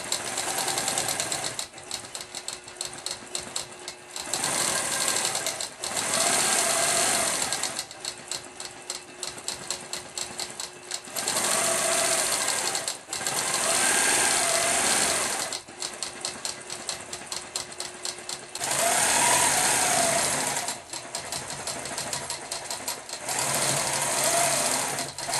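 Sewing machine running in repeated bursts while stitching a quilted feather motif and center design, a steady fast mechanical chatter broken by short pauses between runs, close and loud with no voices.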